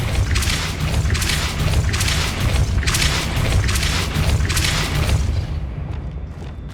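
A Depulso spell cast in Hogwarts Legacy gives a loud, sustained blast of rumbling, crackling force, pulsing in several surges before fading near the end.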